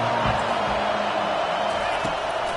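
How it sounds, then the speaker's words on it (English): A football stadium crowd on third down gives off a steady, loud roar that holds without letup, with no clear individual voices. "Decibels rising as the crowd gets behind this defense on 3rd down."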